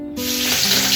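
Crushed garlic, shallots and curry leaves hit hot oil for an egg and amaranth thoran, bursting into a sudden loud, hissing sizzle that stays strong and steady after a brief quiet start.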